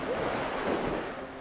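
River rapid waves slosh and splash against an inflatable canoe, a loud continuous rushing wash of churning water on a hot day.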